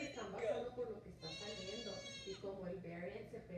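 A baby goat bleats in a wavering, nasal cry partway through, over a steady background with voices and other sounds around it.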